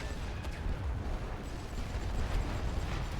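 Heavy, continuous rumbling booms from a tank firing on an enemy in the World War I strategy game The Great War: Western Front, dense and loud with no clear gaps between blasts.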